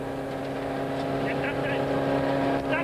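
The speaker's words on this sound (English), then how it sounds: "The car cam reveals Habich and Boerter cruising in the stage with the engine close to cooking." Rally car from the 1993 Swartland Rally cruising through a stage with its engine close to overheating, a steady droning engine note with a strong harmonic hum, heard from inside the car, continuous and fairly loud throughout.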